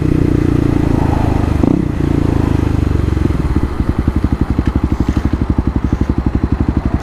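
A 2018 Kawasaki KLX250 single-cylinder motorcycle revs up close by, its steady low drone breaking into a fast, evenly pulsing beat as it pulls away hard.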